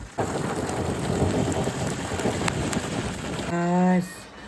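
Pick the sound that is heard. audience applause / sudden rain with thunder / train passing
sudden rain with thunder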